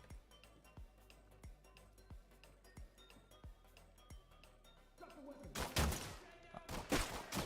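Gunfire in a video game shootout: a steady run of quiet, evenly spaced single shots, then louder, heavier bursts of firing near the end, with no talk.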